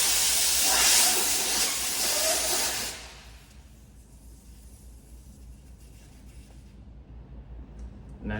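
Air hisses loudly and steadily from a tire's bleeder valve during tire mounting and demounting, then drops away to a faint hiss that tails off at the end.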